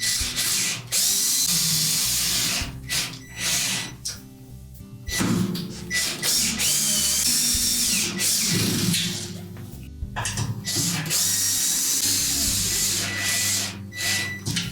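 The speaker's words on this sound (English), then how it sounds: "we'll just thread those into the same spot" Long 10-24 screws are driven into a Whirlpool washer during brake spring repair with a power driver or ratchet, in bursts of loud close mechanical whirring and clicking broken by short pauses.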